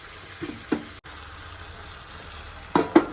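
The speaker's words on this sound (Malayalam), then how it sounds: "സവാള നല്ലതുപോലെ വഴണ്ട് വന്നിട്ടുണ്ട് അതിലേക്ക് ഇനി നമുക്ക് ചിക്കൻ ഇട്ട് കൊടുക്കാം" Chicken pieces sizzle in a pan over softened sautéed onions for a Kerala-style chicken biriyani, a steady close frying hiss with a few brief stirring clatters and splashes.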